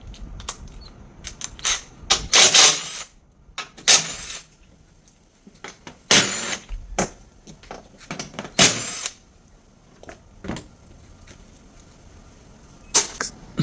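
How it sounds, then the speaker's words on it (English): Ratchet with a 12mm socket working the fasteners on a 2025 Toyota Tacoma front bumper cover: several short bursts of rapid, close clicking separated by quiet pauses, with no talking. "I'm going to remove this front cover, 12mm socket."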